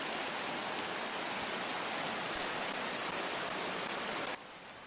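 Steady, full rushing of Rock Creek, a mountain creek in Little Lakes Valley flowing over rocks, constant and close, with no voices; the flow softens slightly just before the end.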